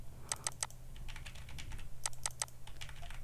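Fingers type on a computer keyboard in quick bursts of light clicks, with clusters of sharper key strikes between softer taps, close and fairly quiet with no voices.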